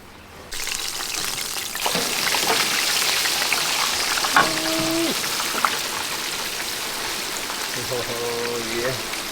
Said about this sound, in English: Whenever chicken just drop in the fryer and that bubbling where you get